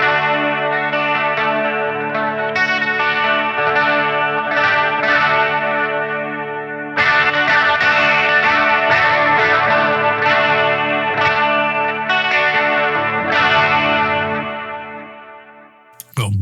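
Electric guitar played through a NUX Trident multi-effects unit on its Deluxe Reverb amp model, clean sustained chords and picked notes with chorus-like shimmer and echo tails, loud and alone, fading near the end.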